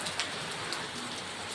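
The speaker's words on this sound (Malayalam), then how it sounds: "വെയിൽ മാറി മഴ എത്തിയപ്പോൾ" Rain falls over a garden of mango, banana and jackfruit trees and tulsi plants, a soft, even patter with a few sharper drops, moderately quiet and close, with no voices.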